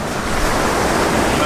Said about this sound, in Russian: Мы вновь на берегу Атлантического океана в Мавритании, в столице Нуакчот.